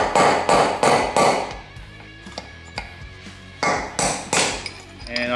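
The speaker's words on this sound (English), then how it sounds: "I kind of used just any long item like a chisel or a punch or something. And I'm gonna go for the outer race of the bearing" A punch is hammered against the outer race of a bearing during steering work on a John Deere 214 mower. Bursts of sharp, ringing metal blows come close and loud, pause for lighter taps, then resume in a quick series.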